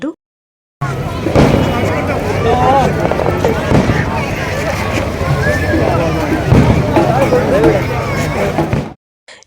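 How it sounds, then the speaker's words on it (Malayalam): Fireworks go off at a church feast celebration at Kochu Edathua. A loud, continuous stream of bangs and crackles blends with crowd babble and nearby voices. "അവിടെ നമ്മുടെ വെടിക്കെട്ട് പരിപാടി നടക്കുന്നത് അത് കണ്ടു"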